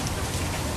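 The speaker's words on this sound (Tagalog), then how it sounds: "Sobrang lakas na ng ulan" Heavy rain pours down steadily in a dense, continuous wash of drops hitting the ground, loud and close, with no voices.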